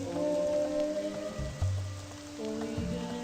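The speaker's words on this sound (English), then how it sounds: "It's a downpour here today" A heavy downpour hisses steadily through a scene in Forest of Drizzling Rain, an RPG Maker horror game, under a sustained tonal music drone with a couple of low thuds.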